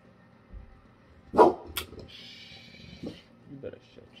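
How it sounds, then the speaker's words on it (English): Dog barking at night in a home, a couple of sharp barks and yips at a moderate distance, mixed with a voice and some faint background sounds. "It's the dog."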